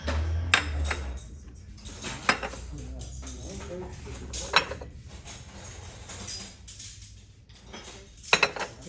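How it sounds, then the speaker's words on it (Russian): German dishware, cups and plates, handled and set down, giving scattered ceramic clinks and knocks at irregular intervals. Several sharper chinks stand out above a quieter background. "Германская посуда."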